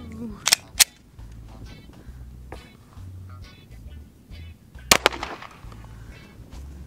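A Glock 22 .40 caliber pistol fired at a bulletproof vest outdoors, several sharp close shots, two early and a pair later, with people talking between them.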